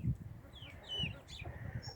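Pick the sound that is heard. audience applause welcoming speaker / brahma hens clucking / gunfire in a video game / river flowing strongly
brahma hens clucking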